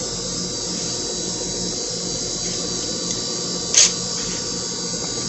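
A roll-lock sanding pad scuffing a headlight surface makes a steady, high-pitched power-tool whine that runs unbroken, with one brief louder scrape near the end.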